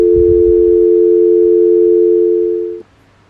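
A steady telephone tone sounds after a prison call hangs up, a loud continuous pitched hum held for nearly three seconds before cutting off abruptly, with quiet background murmur at the start.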